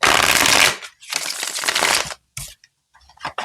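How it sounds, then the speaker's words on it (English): Loud bursts of tarot cards being riffled and shuffled, two long bursts followed by a few shorter flicks and taps, with no talking. "I just wanted to shuffle while I was talking"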